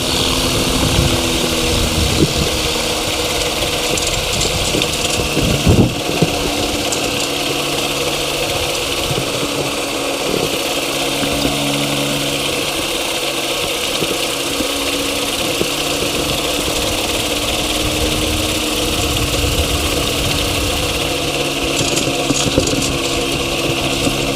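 A helicopter engine runs steadily near a helicopter school in Tulbagh, a loud, continuous droning whine with a constant hum that holds unbroken for the whole stretch.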